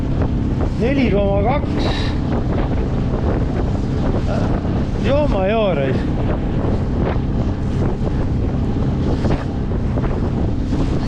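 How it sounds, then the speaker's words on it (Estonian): A small outboard-type motor pushes a boat across the open sea against wind and waves, giving a steady, loud drone under heavy wind buffeting while people talk over it. "Väike mootor lükkab küll 4 noppi."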